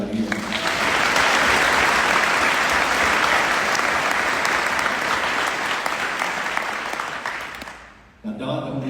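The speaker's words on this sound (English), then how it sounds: "One more round of applause for this guy right here." An audience at a football chalk talk event with former FSU and NFL player Warrick Dunn breaks into loud, sustained applause that slowly fades, then cuts off as a voice starts talking.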